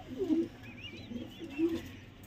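Pigeons (kept pet pigeons) coo softly nearby, a few low throaty rolling calls spaced apart, with faint chirps in the background.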